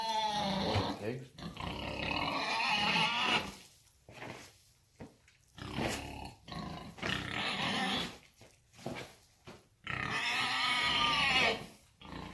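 Pigs grunting and squealing in bursts close by on a farm during home pork processing, rough throaty calls separated by short pauses, with a voice talking between them.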